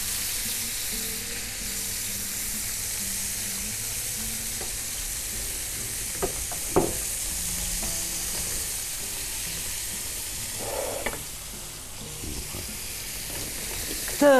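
Fish frying in a pan, with a steady sizzle and crackle of hot oil throughout and a few sharp clinks and scrapes from the utensils.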